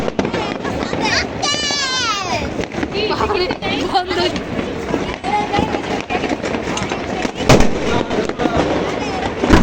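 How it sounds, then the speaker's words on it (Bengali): New Year's night fireworks burst and crackle all around in quick, irregular pops, with a louder blast near the end and a few whistling streaks, while people talk over them. "চারদিকে শুরু হয়ে গেছে আতশবাজি ফোটানো।"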